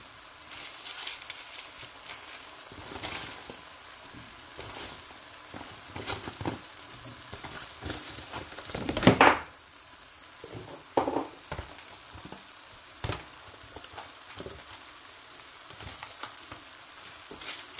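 Carrots and chayote stir-fried in a hot pan for vegetable chopsuey give a steady close sizzle, broken by irregular scraping and clattering stirs and one louder burst midway, with no talking.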